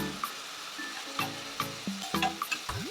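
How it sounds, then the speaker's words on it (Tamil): Onions and slit green chillies sauté in a pan, with a soft, close sizzle under repeated light scraping and stirring strokes, no voices present. "வெங்காயம் நல்லா வதங்கட்டும்."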